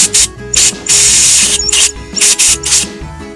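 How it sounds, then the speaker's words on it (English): Compressed air blasts into a Helicoil-repaired shifter bolt hole in a T5 transmission tailhousing to clear out Loctite: about half a dozen loud, close, hissing bursts of varying length with short gaps between them. "I'm going to put a little air pressure in there because I put Loctite in it."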